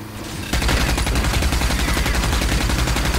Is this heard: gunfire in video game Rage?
yes